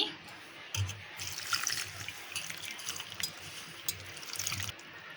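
Water trickles and pours softly into a flour and salt mixture for maida dough, with wet splashing and mixing sounds close by, fairly quiet throughout.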